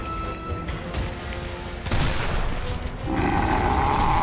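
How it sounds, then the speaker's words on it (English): A sniper rifle shot rings out in the Gears of War video game, a sharp crack at about two seconds followed by a sustained roar of game noise and a rising mechanical whine near the end. "That was a sniper."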